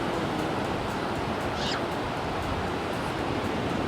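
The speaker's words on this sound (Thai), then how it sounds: "คลื่นไม่ค่อยแรงนะคะ" Gentle ocean waves wash onto a beach in America at low tide, a steady broadband surf roar throughout, with a faint, brief bird-like call partway through and no talking.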